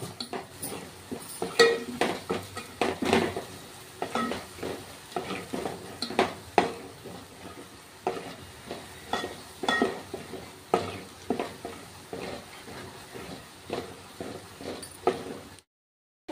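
Coconut frying in a pan while being stirred, with steady sizzling broken by repeated scraping and clinking of a utensil against the pan, close and moderately loud, continuing for most of the stretch before stopping abruptly.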